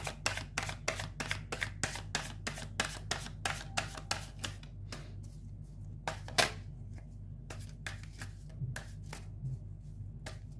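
Tarot cards shuffled by hand in a steady run of crisp riffling flutters, close and clear, thinning into a few sparse taps and one sharper snap near the end, with no talking.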